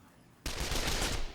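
Gunfire erupts abruptly in the World War II strategy game Men of War: Condemned Heroes, a dense, sustained burst of automatic rattling that follows a quiet lead-in.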